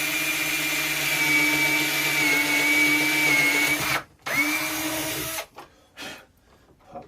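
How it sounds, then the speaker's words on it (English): A power drill boring a hole for a DIY air column separator build, a loud steady whine that stops briefly, restarts, then winds down into short bursts and silence, near and alone. "So we're going to drill our hole here."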